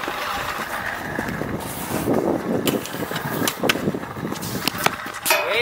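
A scooter rolls and clatters across pavement in an outdoor skatepark, with sharp wheel and deck impacts scattered through the ride as a trick is landed, accompanied by steady wind rumble.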